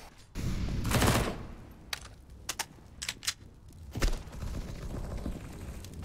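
Bursts of gunfire from an esports match, with a loud volley early on, several sharp separate shots in the middle and another burst near the end over a steady game background, no talk.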